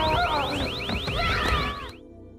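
An alarm device pulled from a pocket blares a rapid, repeating electronic warble, loud and close, over a low rumble of commotion, then cuts off abruptly near the end.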